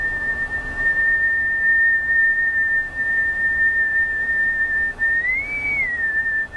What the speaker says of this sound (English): Maybe we'll do pucker whistle and then palatal whistle.